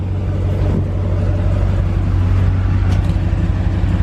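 Stock Hemi V8 in a Ram pickup truck idles with a steady, low rumbling drone, close and constant throughout, with no revving and no voices.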